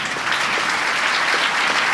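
Church congregation applauding during a Sunday worship service, a steady, dense wash of many hands clapping at once, loud and continuous with no pauses.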